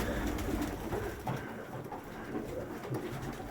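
Pigeons coo softly in a repeating, low murmuring rhythm, fairly quiet and close, with no talking.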